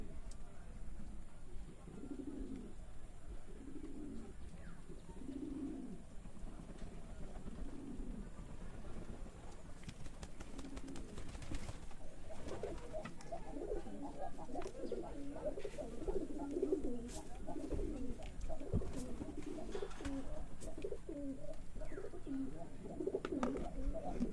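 Pigeons kept by a fancier in Shibganj, Chapainawabganj coo in a steady repeating rhythm of low rounded calls, close and moderately loud, with a busier stretch of overlapping coos and rustling in the second half.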